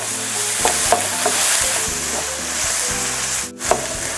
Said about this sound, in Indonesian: Saya tumis dulu bawang merah dan bawang putihnya